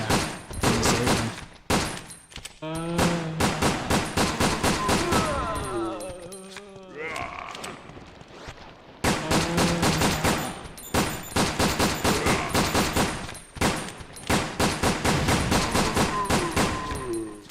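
Rapid bursts of gunfire from zombie shooting in Resident Evil: Dead Aim, loud and sharply repeated in fast volleys, pausing briefly midway for groaning game sounds before the shooting resumes.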